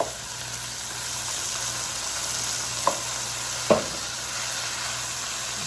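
Codfish and eggplant stewing with peppers and fresh cilantro sizzle steadily in a pan, a soft continuous frying hiss with two brief scraping clicks of a spoon stirring through the mixture.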